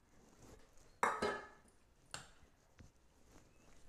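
Fried cauliflower added to a pan of gravy, a sudden clatter and scrape of a utensil on the pan followed by a second knock and a fainter tap, close but otherwise quiet, with no talking.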